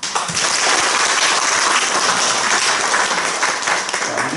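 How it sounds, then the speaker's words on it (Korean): Congregation applauding during a church ordination thanksgiving service in Korea: dense, steady clapping from a crowd filling an indoor hall, loud and continuous for several seconds with no talk over it. "박수하시죠."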